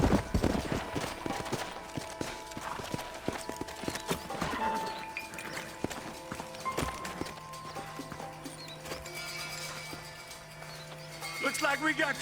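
Horses from the Western video game Red Dead Redemption, with clip-clopping hooves and neighing amid game ambience and occasional voices, moderately loud with a sustained whinny-like tone later on.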